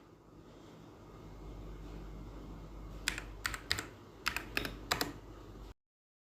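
Someone types on a computer keyboard, with two quick bursts of sharp, close clicks over a steady low hum in a quiet room.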